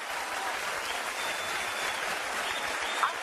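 Studio audience on a Turkish TV talk show applauds a guest, a steady, dense wash of clapping from many hands holding even in level throughout.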